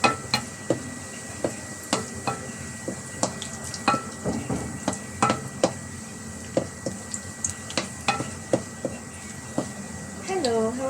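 Garlic frying golden brown in a pan while being stirred steadily for Filipino ginisang sotanghon, a sizzle running under repeated sharp scrapes and taps of a spatula against the pan, with a voice speaking over it.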